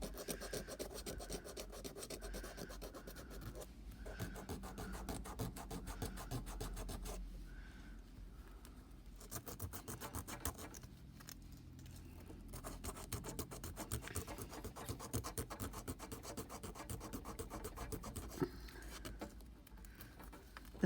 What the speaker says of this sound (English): I'm going to keep sanding this, and then I'll come back once I've sanded off the face